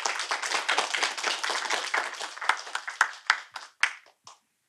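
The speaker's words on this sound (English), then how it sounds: "Let's give a loud cheer to Neeti" A poetry-reading audience for a women's poetry event claps for a poet who is reading remotely. Brisk group clapping thins over a few seconds into scattered, separate claps and then stops.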